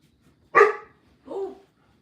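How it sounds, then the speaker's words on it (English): A dog barks twice with no talk, first a sharp, loud bark, then a softer, lower one about half a second later. "What are you barking at?"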